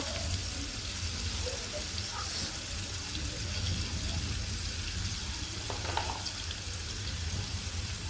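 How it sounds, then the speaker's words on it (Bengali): Fried onions in a pan sizzle after a little water is added, giving a steady, even hiss that runs throughout without pause. "পেঁয়াজটা ভাজা হয়ে গেছে একটু পানি দিয়ে দিলাম"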